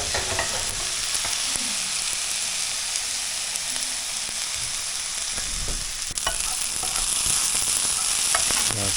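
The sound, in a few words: shallots frying and being stirred in a pan with olive oil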